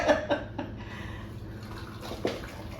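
Pickling liquid for sweet gherkins being poured into canning jars, a soft splashing trickle with a few brief louder splashes, faint and close.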